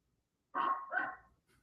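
A hunting dog gives two quick, loud barks close by in an otherwise quiet outdoor setting, followed by a faint trailing sound.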